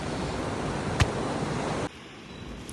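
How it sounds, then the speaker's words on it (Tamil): Steady broadband wash of ocean surf at 7th Avenue Beach, a constant roar that drops suddenly partway through, with a brief knock near the start. "இப்போ நாங்கள் வந்திருக்கிற நெக்ஸ்ட் ஸ்பாட்டு தான் beach, seashore 7th Avenue beach."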